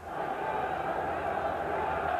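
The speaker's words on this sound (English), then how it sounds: "The crowd still buzzing after the wonderful free-flowing Tottenham move" Football crowd at White Hart Lane during a 1994-95 Coca-Cola Cup match between Tottenham and Watford, a dense steady roar of many voices holding at one level throughout, loud and continuous with no single voice standing out.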